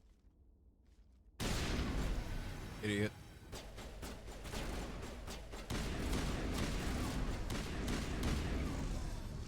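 Rapid bursts of gunfire from the Mass Effect video game crackle in dense volleys over a loud, busy battle mix. A voice speaks briefly near the start.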